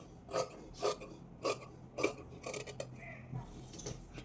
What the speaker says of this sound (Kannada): ಎರಡೂ ಒಟ್ಟಿಗೆ ಸೇರಿಸಿ ಕಟ್ ಮಾಡ್ಕೊಳ್ತಾ ಇದ್ದೀನಿ